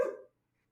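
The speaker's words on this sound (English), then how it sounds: "you can hear my dogs in the background" A single short dog bark, fairly quiet and somewhat distant in the background, cut off quickly and followed by silence.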